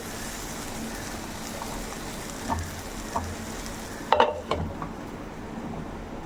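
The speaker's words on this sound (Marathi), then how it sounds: "बघू शकतो मस्त असं भिंडी फ्राय होत आहे" Okra (bhindi) sizzles and fries steadily in a pan, with a soft constant crackle and a few spoon-on-pan stirring scrapes and knocks near the end.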